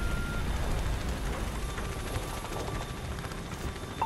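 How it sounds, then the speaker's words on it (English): Helicopters approach in the Call of Duty Ghosts campaign, heard as a faint, continuous low rotor rumble over a steady background of distant battle noise. "Choppers are inbound"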